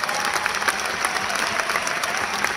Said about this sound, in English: you're clapping me, but the thing is, you should be clapping yourself